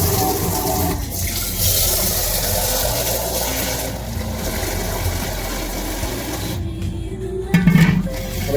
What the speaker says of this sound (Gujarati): હવે તપેલામાં પાણી ભરી લીધું છે મિત્રો